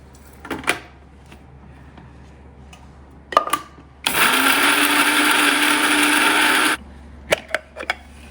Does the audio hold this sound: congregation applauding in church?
no